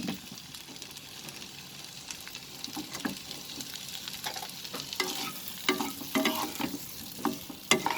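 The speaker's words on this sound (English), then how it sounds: "And now in this butter we are going to add the potatoes." Potatoes being sautéed in butter in a pan, a steady soft sizzle with stirring scrapes and clatters that grow louder and busier toward the end, with no voices.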